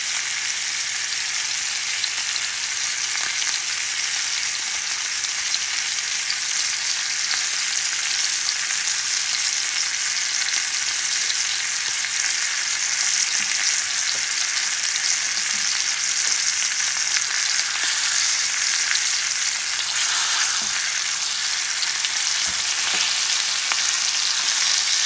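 A bison T-bone steak sizzles in a cast iron pan topped with minced garlic, a loud, steady frying hiss that crackles continuously with occasional small pops and no voices.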